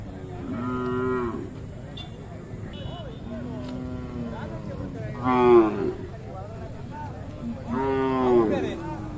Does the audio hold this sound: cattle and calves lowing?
yes